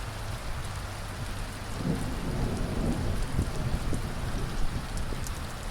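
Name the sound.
thunder rumbling during a rainstorm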